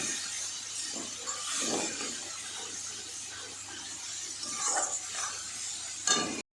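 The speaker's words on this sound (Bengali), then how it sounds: "জল দিয়ে একটু নেড়ে চেড়ে নেব" Spices for a dried-fish (shutki) curry being stirred with water in a pan, a steady wet scraping and sizzle with soft clinks of a utensil, continuous and close for several seconds.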